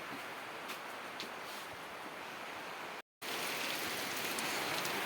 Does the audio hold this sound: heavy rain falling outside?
yes